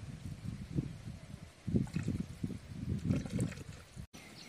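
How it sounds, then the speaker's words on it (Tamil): Oil trickles into a pot of boiling salted water for Hakka noodles, giving a soft, uneven liquid pouring and bubbling sound that is faint and close by, with a brief dropout near the end. "கொஞ்சம் ஆயில் சேர்த்துக்கலாம்."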